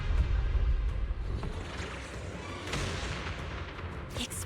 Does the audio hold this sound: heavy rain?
no